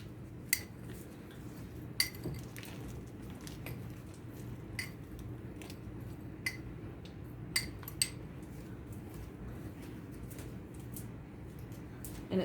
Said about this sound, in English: And I'm just going to give this a stir.